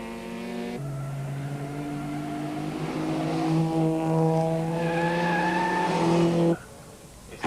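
Rally cars in a 1990 South African rally race on a stage, engines whining with rising and falling harmonic tones as one car accelerates hard past, loud and sustained, then cutting off abruptly.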